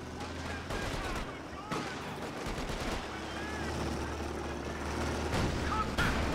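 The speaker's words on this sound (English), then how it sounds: "It's just 4 machine guns." Machine gun fire in the World War II strategy game Company of Heroes 2, a dense, steady crackle of mid-distance bursts over low rumbling engine noise, continuing for several seconds without a break.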